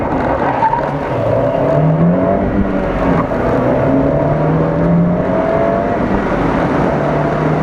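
A Fiat 124 Spider being driven, a loud close engine note rising and falling with gear changes and steady road and tyre noise throughout.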